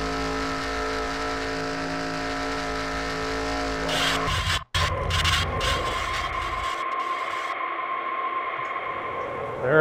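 A NASCAR race car in a racing video game, heard onboard during a crash: steady engine drone, then a sudden impact burst with a brief dropout, scraping and skidding noise, and the engine running on more roughly afterward.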